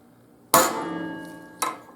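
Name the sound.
hammer striking a center punch into metal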